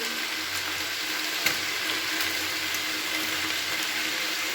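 Vegetables fry with turmeric, chilli powder and cumin in a hot pan, giving a constant, even hiss of sizzling oil with an occasional faint knock of stirring and no talking.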